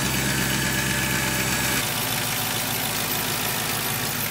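A Mercedes-Benz AMG engine runs steadily close by, a loud continuous drone whose low tone shifts partway through, with no talking.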